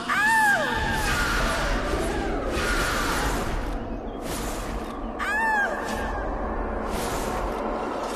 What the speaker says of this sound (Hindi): किसी की चीखने की आवाज आई।